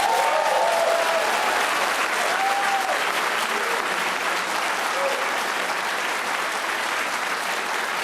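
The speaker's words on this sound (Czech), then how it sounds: "Jsem velice rád, že vaši příznivci tleskají" Studio audience supporters applauding during a 2013 Czech presidential TV debate on Prima, a dense, steady burst of clapping that fills the whole stretch and fades slightly toward the end.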